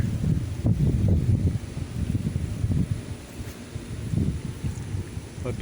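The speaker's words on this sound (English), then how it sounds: "But the wind has been so bad today." Gusty wind blowing through a backyard pole-bean patch, heard as low rushing buffets against the microphone that swell and ease in uneven waves.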